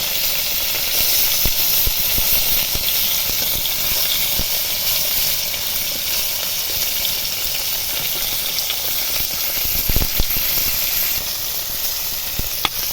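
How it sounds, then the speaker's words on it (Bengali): Fish heads fry in hot oil, a continuous loud sizzling hiss close by, broken by occasional sharp crackles and spits, with a faint scrape near the end. "মাথাগুলো সব পিটগুলো এটিতে পিট করে"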